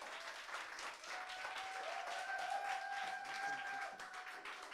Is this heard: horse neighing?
no